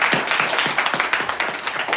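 Applause for Stephen Wolfram at an AI for Physics hackathon talk: a continuous round of many hands clapping, fairly close and dense, with rhythmic peaks throughout.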